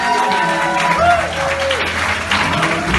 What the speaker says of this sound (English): big round of applause for the bride and groom